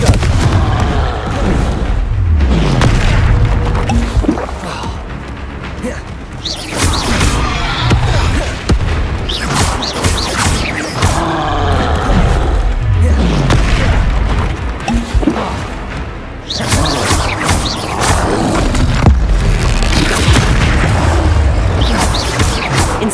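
Spell blasts in Hogwarts Legacy, including the Confringo blasting curse, boom repeatedly in a dense, loud barrage of explosive bursts and impacts that runs almost continuously, with brief dips between clusters.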